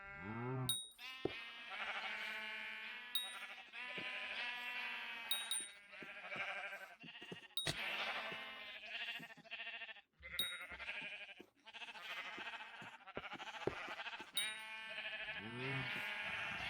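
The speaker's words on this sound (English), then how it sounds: "I didn't mean to kill the sheep." Sheep in the blocky video game Hypixel Skyblock bleat repeatedly, a run of close, clear synthetic baas in irregular succession with brief sharp clicks between some calls, no talk over them.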